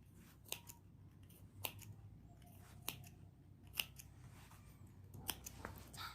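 Fabric scissors snip notches into the curved seam allowance of a round string pouch, about eight short crisp cuts spaced irregularly, quiet and close in an otherwise still room.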